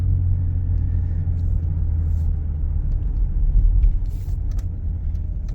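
A BMW E32 735i, driven for the first time in ten years, gives a steady low engine rumble heard from inside the car, swelling slightly midway, with faint clicks and no talk.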